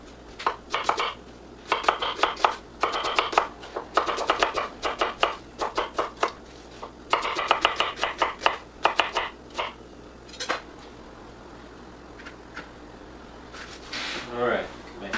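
Onions are chopped with a knife on a board in quick bursts of sharp, close taps, pausing briefly between runs, with a person talking over parts of it.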